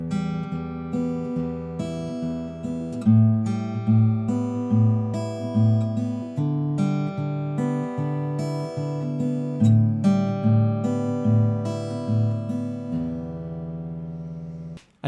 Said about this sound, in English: practice alternating thumb finger, thumb finger, thumb finger, back and forth. So it would sound like this.